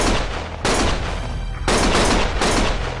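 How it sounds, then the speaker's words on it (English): Bursts of automatic gunfire from a shootout in the video game Lost Judgment, loud and dense, coming in rapid volleys with brief gaps between them. "Stop shooting!"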